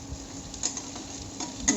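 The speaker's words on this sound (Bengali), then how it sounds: "সব কিছু একসাথে ভালো করে নাড়িয়ে নিচ্ছি।" Potatoes and drumsticks for rohu fish curry being stirred and fried in a pan, giving a faint, steady sizzle with light scraping and a couple of soft clinks.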